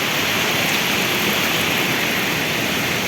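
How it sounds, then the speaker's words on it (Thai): A roadside waterfall near Mae Klang on Doi Inthanon pours in a constant hissing rush, close and loud with no pauses. "นี่มีน้ำตกข้างทางด้วย"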